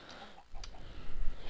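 Chickens clucking in the Minecraft video game, a brief burst of soft clucks that rises in loudness toward the end, quiet and heard alone.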